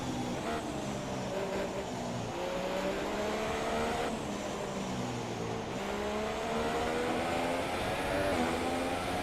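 A Formula 1 car in F1 2017 screams down the pit straight at Shanghai in China, its loud high-revving engine climbing through repeated upshifts in a continuous, close, sustained wail.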